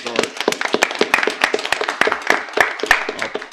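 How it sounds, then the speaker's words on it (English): A small group claps quickly and unevenly at a school district staff gathering, sharp individual hand claps close by, sustained for a few seconds without voices. "I would like to give our principals and staff an outstanding applause for a great start."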